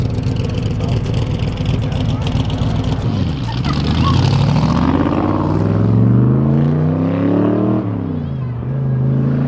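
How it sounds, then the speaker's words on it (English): A Daytona with a Roush V8 pulls away at a car meet, its deep engine rumble rising in pitch as it revs and accelerates, loud and close before easing off as it moves away. "we have the Daytona leaving right now"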